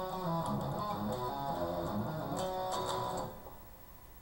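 An electric guitar plays the main riff of a song, a quick run of distorted picked notes at moderate level for about three seconds, then easing into a softer ringing tail.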